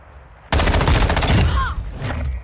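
Loud, close burst of M13B assault rifle fire in Modern Warfare 2, a dense rapid string of shots lasting about two seconds, then fading into softer trailing clatter.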